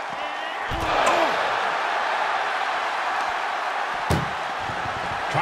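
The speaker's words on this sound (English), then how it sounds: "Trying to at least slam one door shut." In a video game, an ambulance door slams shut with a single sharp thump partway through, set against a steady, noisy game background.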